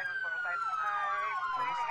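A wailing ambulance siren sweeps up and down loudly and continuously, close by, with faint traffic rumble underneath and no talk.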